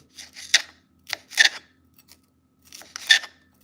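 A kitchen knife cuts through food in three short bursts of close, rasping strokes with brief pauses between them.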